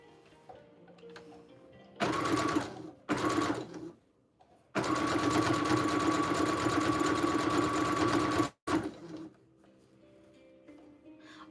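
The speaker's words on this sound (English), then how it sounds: "This is a quick sew." A sewing machine runs through a plant pot sleeve in short bursts, then one long steady stitching run of about four seconds, loud and close with a humming whine, stopping and starting again briefly.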